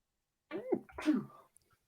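A single close sneeze, a sharp two-part burst of breath and voice, with silence before and after.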